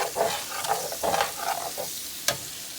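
Neck bones stirred and browning in a pan, with a steady frying sizzle and several scraping strokes of a spoon about every half second, then a sharp clink near the end, close by with no talking.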